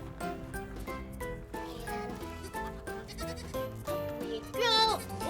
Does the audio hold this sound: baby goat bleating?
yes